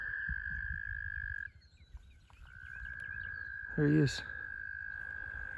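Frog croaking at a lakeside dock during spring bass fishing, a single short burst of low throaty croaks standing out loudly over steady insect drone and brief speech.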